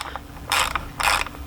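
A ratchet turns out T20 screws from the ambient air duct on a 2019 Jeep JL, giving two quick bursts of sharp clicking close by.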